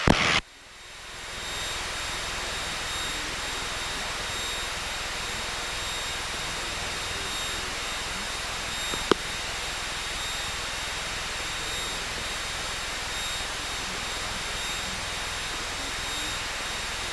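A Piper Cherokee 180 light aircraft at Hickory Regional Airport during takeoff and cruise, its engine a steady, unbroken droning roar heard from inside the cabin after a brief quieter start.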